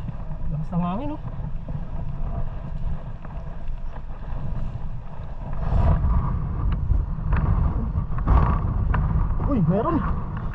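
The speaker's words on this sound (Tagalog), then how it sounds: "Lakas ng hangin oh." Strong wind buffets a boat at sea in a continuous, loud low roar of gusts and rushing air that swells in the second half, with voices briefly talking underneath.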